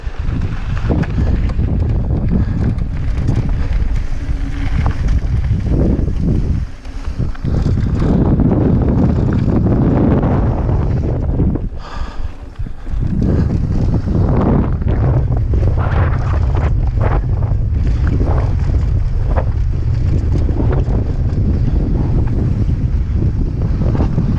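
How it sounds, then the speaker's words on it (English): Strong wind buffets the microphone while riding a 2018 Pivot Switchblade with a Fox fork on the Chutes Trail at Santiago Oaks, a loud continuous roar with gusty surges and brief lulls. "So windy."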